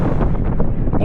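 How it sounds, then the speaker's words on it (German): Wind blows hard across the icy 3376-metre Suldenspitze summit, a loud, gusty buffeting rumble battering the microphone for a brief moment. "Der Wind fegt hier oben."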